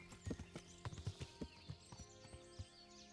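Horse hooves clip-clopping while riding in Kingdom Come: Deliverance, a quiet irregular run of hoof strikes over soft ambient game music, no talk.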